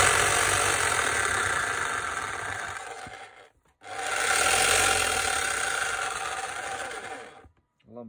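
A Milwaukee Kango 545 S SDS Max rotary hammer with worn gears and a weak impact runs in two loud bursts, cutting out briefly between them and again at the end.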